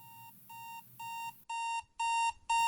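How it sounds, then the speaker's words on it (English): An alarm clock beeps in rapid repeating bursts, six tonal pulses that grow louder and faster toward the end, with nothing else underneath. "your alarm clock is blaring"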